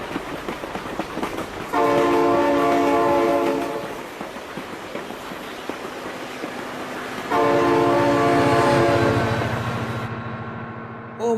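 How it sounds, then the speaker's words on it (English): In the driving game BeamNG Drive, a train horn sounds two loud, sustained chord blasts separated by a pause, over the rumble and clatter of a passing train. "Oh my god, train!"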